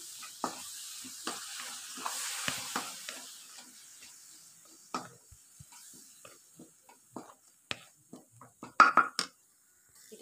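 Tomato puree frying in a pan for an okra dish, with a faint low sizzle and scattered clicks and taps of a spoon stirring against the pan, growing sharper near the end.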